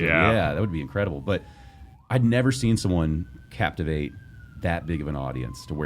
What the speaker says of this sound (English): sorry for the sirens if you're hearing that